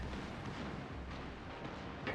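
Heavy naval guns from an enemy ship firing in a naval battle video game, a rumbling boom and distant roll of gunfire at low level, with no voices.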